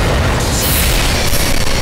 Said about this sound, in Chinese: 爆炸、闪电、大闪电。